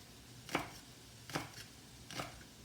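Green onion tops are sliced with a knife on a cutting board, three crisp separate chops spaced less than a second apart, close and fairly quiet.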